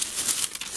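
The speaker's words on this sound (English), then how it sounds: "Here's the plastic bag that I can use" A plastic bag crinkling during a bedroom tidy-up, a brief burst of crisp rustles up close with no voices.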